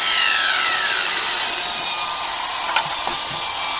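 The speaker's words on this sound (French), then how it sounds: "il y en a un qui scie et l'autre qui ponce" Continuous rasping of a saw and sander working wood during timber house construction, a steady rough grinding texture with a couple of faint knocks partway through.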